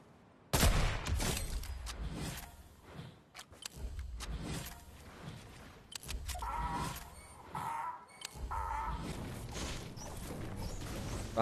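Gunfire in the Fortnite video game, a run of loud bursts and single shots mixed with rumbling game effects, fairly close and irregular throughout.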